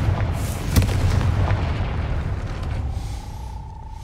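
A Confringo spell blast in Hogwarts Legacy, a sharp booming burst near the start that rolls into a rumbling, crackling tail, followed by a fading whistle-like tone; no talking.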